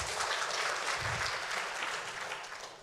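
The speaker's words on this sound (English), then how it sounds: "Clap if you saw my birthday." An audience claps together at a church fellowship gathering, a steady, moderately loud wash of applause that tapers off toward the end.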